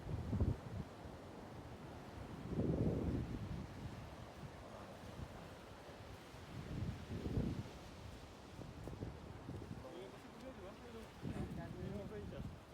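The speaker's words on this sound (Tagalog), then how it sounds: "Oo, grabe, no? Lakas yung hangin." Gusty wind rumbles against the microphone in rising and falling surges, with waves washing in the background and voices talking underneath.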